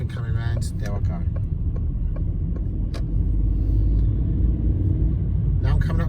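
A car pulls away onto a roundabout with a steady low engine rumble that swells slightly as it accelerates, heard from inside the cabin, with someone talking at the start and end.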